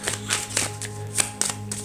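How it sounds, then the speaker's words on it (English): A deck of playing cards is shuffled by hand, with a quick run of soft, close papery taps and flicks over a couple of seconds. "Now I'm going to shuffle the deck"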